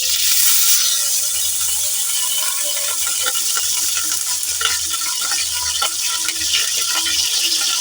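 Hot oil hissing and sizzling steadily in a pot while cooking dal mash fry, a continuous close frying crackle with occasional stirring clatter.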